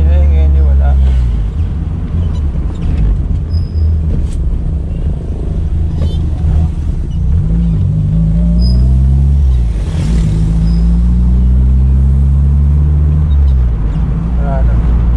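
A Toyota Corolla EE90 with a 2E engine driving after a front wheel bearing replacement, a loud steady low engine and road rumble filling the cabin, smooth with gentle swells in pitch, with people talking over it.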